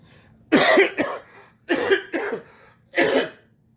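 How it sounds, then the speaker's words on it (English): Four sharp, loud coughs in quick bursts, close by, with short pauses between them. "I'm still coughing"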